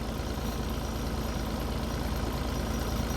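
A SK1550 firewood processor's engine held at a low idle, a steady, unbroken drone with dense broadband noise that stays constant and close throughout, no voices.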